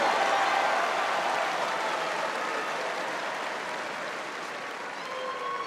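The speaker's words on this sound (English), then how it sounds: "Please give a big round of applause one more time for Pablo McAnichney." A large crowd at a strongman power stairs competition applauds steadily, a dense roar of clapping that fades only slightly over several seconds.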